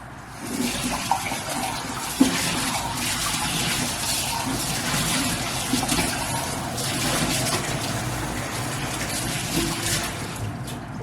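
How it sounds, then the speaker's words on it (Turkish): Lemon juice pours in a steady liquid trickle with a faint splash, running continuously at close range with a couple of small clinks along the way. "Şöyle bir limonun suyunu döküyorum"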